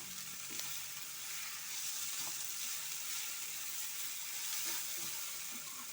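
Sweet mango curry cooks in a pan while being stirred, giving a soft continuous sizzle with faint spoon scrapes in the background and no talking.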